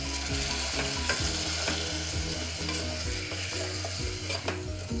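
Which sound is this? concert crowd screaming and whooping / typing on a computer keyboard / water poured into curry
water poured into curry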